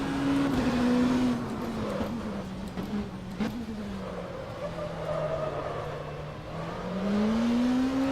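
Oreca LMP2 race car engine in the rFactor 2 racing game, a loud steady engine drone rising and falling in pitch through corners and acceleration, with tyre noise underneath, continuous for the whole stretch without talk.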